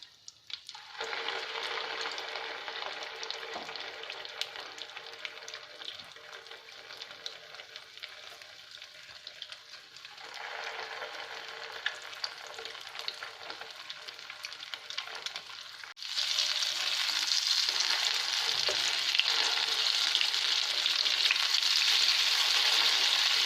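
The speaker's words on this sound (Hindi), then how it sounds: "तो इस तरीके से मैं कबाबों को फ्राई कर लेती हूँ।" Chana dal shami kebabs shallow frying in oil, a continuous close sizzle that swells louder partway through, as if more oil or kebabs are added, with no talking.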